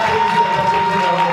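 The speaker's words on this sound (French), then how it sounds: "Je vous demande de faire un tonnerre d'applaudissements pour Marie-Charlotte Tadepol-Gondé" Crowd applause and cheering at an awards ceremony for entrepreneurs, a dense continuous wash of clapping and voices throughout, loud and close, with a steady tone running underneath.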